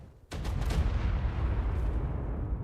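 A sonic boom in the video game Ark Survival Ascended: a sudden, loud, sharp blast that swells into a heavy, sustained rumbling roar lasting a couple of seconds.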